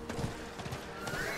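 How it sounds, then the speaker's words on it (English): A horse in the Diablo 4 video game neighs and its hooves clip-clop, short and fairly close, with a whinny rising toward the end of a brief burst. "Your horse can also get scared and kick you off"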